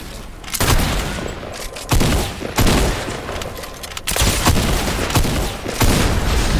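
Gunfire from new exotic weapons in the Fortnite video game: dense, booming volleys of shots and blasts repeat throughout, loud and close, with no talk over them.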